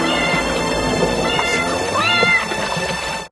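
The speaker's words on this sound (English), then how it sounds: "That cat's meows are a proximity warning." A cat meows repeatedly in a killer kitty horror movie, several drawn-out, loud meows close by over a steady background of film sound, with one strong wavering cry near the end.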